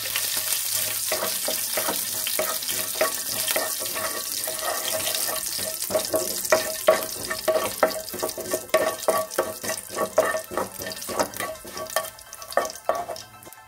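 Cumin seeds fry in hot oil over a medium flame, giving a close, steady sizzle and crackle with scraping stirs that grow busier toward the end and no voices.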